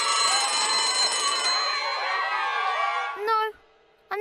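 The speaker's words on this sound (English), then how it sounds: "No, I'm not a huge fan of bells, but I am when it's the bell for break time." A cartoon school bell rings for break time in a classroom, a steady, loud, bright ringing that fills the scene for about three seconds before cutting off sharply, with a brief chime at the end.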